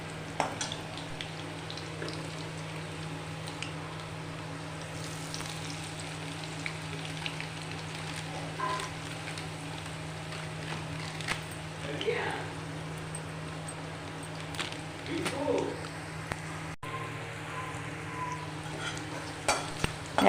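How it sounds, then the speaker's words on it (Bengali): Potatoes frying in a kadai with bay leaf, cloves, cardamom and cinnamon, a soft continuous sizzle with occasional stirring scrapes, faint and steady under a low background hum. "মানে আলুটা ভাজা করে নিচ্ছি।"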